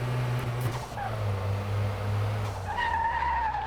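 A car with worn-out or failed brakes skids and slides, its tires squealing in rising tones over a steady low engine drone with misfires, loud and continuous.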